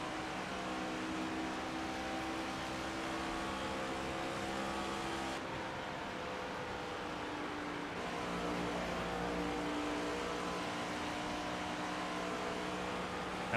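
Race cars roar in the NASCAR 25 video game at Kansas during pit stops and fuel saving, as a steady, fairly quiet engine drone that keeps going with slight swells and no speech.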